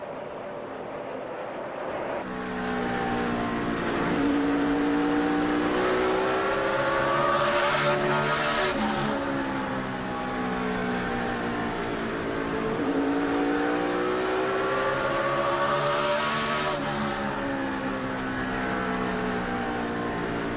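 NASCAR stock cars race in 2008, including Kevin Harvick's car, their engines roaring loudly and steadily, with rising and falling pitch as they pass. A commentator's voice is faintly mixed in underneath.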